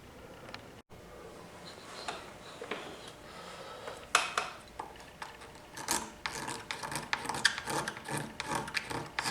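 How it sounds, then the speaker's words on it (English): Printed numbers are scraped off a lap steel guitar with repeated close, raspy scratching strokes that grow louder and more rhythmic partway through, with no talking. "Now we're going to scrape off these numbers."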